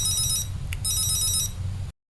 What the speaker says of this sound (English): You also get a nice chime when you get a phone call as well.